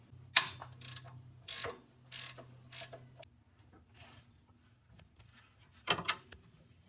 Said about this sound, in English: I'm gonna remove the lower bolt there.